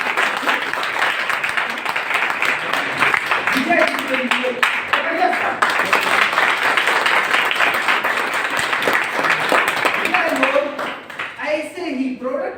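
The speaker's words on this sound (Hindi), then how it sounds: "एक भाई जबरदस्त ताली विक्रम सर के" Sustained applause from a large audience at a network-marketing training seminar, honoring Vikram sir, with dense clapping continuing for about twelve seconds while a voice talks over it.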